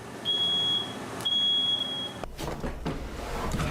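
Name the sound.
smoke alarm beeping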